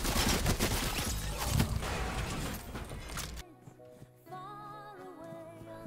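Rapid bursts of video game gunfire fill a dense, loud stretch, then cut abruptly to quieter game music and electronic tones.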